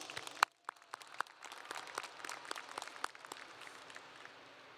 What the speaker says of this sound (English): Let's give a round of applause for those receiving scholarships.